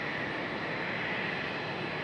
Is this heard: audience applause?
no